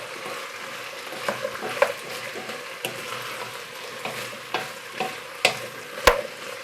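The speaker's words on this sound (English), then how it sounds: "Just going stirring it and getting all the flavours mixed together." Ingredients for a Portuguese fish stew with potatoes being stirred in a pot, giving a steady soft scraping and simmering bubble, with occasional sharper knocks of the spoon against the pot.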